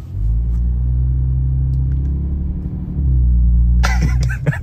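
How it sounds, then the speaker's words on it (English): A new Toyota Tundra pickup floored at full throttle, a loud, deep engine drone that builds steadily with a heavier surge near the end, followed by brief noise as it lets off. "I don't really want to mash a new Tundra's throttle because this thing's got some giddy up, but we're gonna go ahead and mash it"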